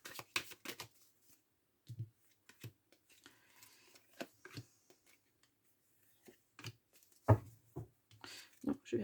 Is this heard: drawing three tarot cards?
yes